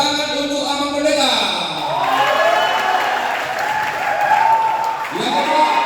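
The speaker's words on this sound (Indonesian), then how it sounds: "tepuk tangan untuk Amang Pendeta" Audience applause for a pastor at a student motivation seminar held by an HKBP church congregation, a broad steady wash of clapping that rises and holds, with voices and a singing or speaking tone over the start.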